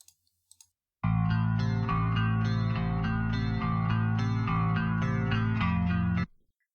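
Clean electric bass plays a sustained run of notes through a delay effect, steady and loud with echoing repeats trailing off, after a couple of faint clicks at the start.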